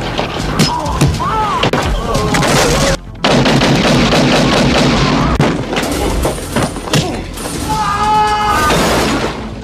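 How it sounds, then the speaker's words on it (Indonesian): A film gunfight in a house erupts in dense, sharp gunshots and booming blasts, loud and close, with rapid volleys, crashing debris and a short pause partway through. "tiba-tiba anak buah Trent menyusup ke dalam rumah tersebut, hingga baku tembak pun terjadi"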